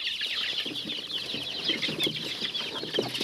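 A chorus of high peeping chicks, some of Cochin breed, mixed with low clucks from a brooding hen, steady and fairly close, with no talking.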